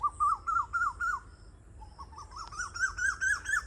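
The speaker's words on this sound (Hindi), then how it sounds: "यहाँ पर कोयल की लड़ाई चल रही है।" Several Asian koels calling back and forth during a squabble, a series of repeated rising whistled notes in quick succession, fairly close, pausing briefly midway before resuming with overlapping birds and a faint high chatter above.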